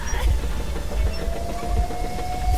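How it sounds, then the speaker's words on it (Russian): A steam locomotive pulling away in the video game Metro Exodus, with low rumbling chugs, rolling rail clatter and a steady whistle-like tone that rises slightly, close and continuous, with no talk. "Поезд покатился. Паровоз, точнее."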